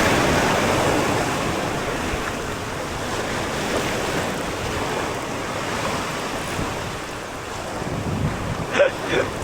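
Ocean waves surge and wash continuously around a small fishing boat at sea, a loud, broad rushing roar mixed with wind buffeting the microphone, a stronger splash near the end.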